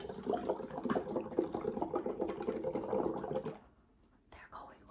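Bubbles are blown into water, making a steady gurgling, splashy bubbling that runs for a few seconds and then stops. Soft voices are heard afterward.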